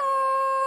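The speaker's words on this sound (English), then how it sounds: "An echo is the sound you hear when you speak loudly in the mountains." A single loud, steady yodel note rings out from a cartoon voice in the mountains, clear and sustained for under a second.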